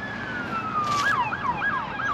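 Police sirens wail in Palmdale, a rising and falling tone joined by a second, faster yelping siren that warbles over a constant background rumble.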